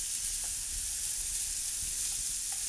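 Seasoned chicken mixture stirred in a hot pan with mushroom or powdered stock and sugar, a steady close sizzle with soft scraping strokes, no voices.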